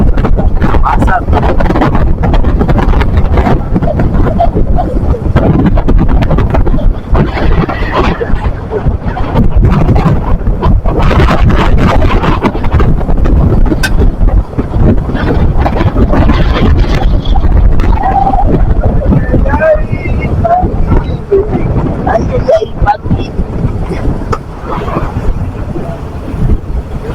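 Strong wind from the first typhoon of 2026 roars and buffets continuously against the microphone in loud gusts, with people talking under it at times.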